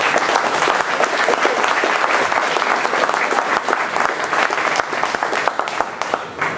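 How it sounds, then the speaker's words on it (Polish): An audience claps in sustained, dense applause at a foundation's second anniversary celebration, loud and even throughout with no voices rising above it. "Bardzo proszę o brawa."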